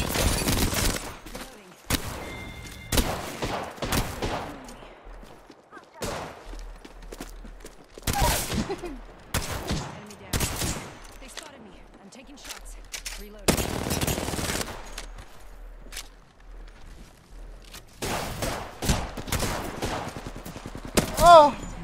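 Rapid gunfire bursts from a video game crackle repeatedly across the clip, loud and dense in clusters, with a player talking over and between the shots.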